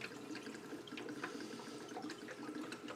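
Water runs steadily from a tap or hose as tomato plants are filled up, a continuous close splashing and gurgling stream with no talk over it.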